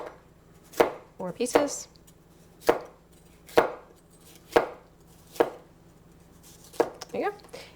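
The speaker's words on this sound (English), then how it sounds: "I'm cutting toward the cutting board" A knife chops a bell pepper on a cutting board in sharp, separate strikes, about eight over several seconds, each crisp and close, with a brief spoken phrase partway through.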